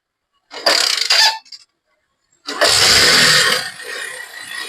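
A used motorcycle at a used-bike seller in Gudivada is kick-started, needing a hard kick. Two loud bursts of engine noise come close up: a short one, a pause, then a longer burst that settles into a rougher, steady roar.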